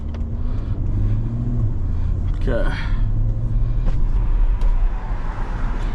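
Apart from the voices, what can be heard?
loud Chevrolet C8 Corvette engine while driving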